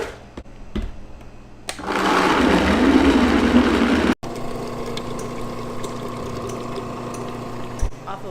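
A Goodnature X-1 Mini cold press runs a press cycle on soaked almonds and water for almond milk, a loud steady mechanical hum and pump drone with clicks and a brief cutoff, then lower running; a voice is faintly present.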